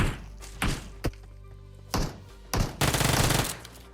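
Gunfire in PUBG Mobile on the Livik map: a few isolated loud single shots, then a dense rapid burst of automatic fire near the end, sharp and close.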